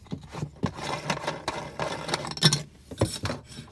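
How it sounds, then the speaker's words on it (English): A plastic nut on a motorhome TV aerial on an Elddis 6-berth is loosened with close, short scraping and rubbing creaks in uneven bursts, and no talking. "Once you've worked it out, you simply release the plastic nut"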